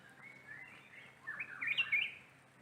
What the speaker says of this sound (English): It is a bird sound.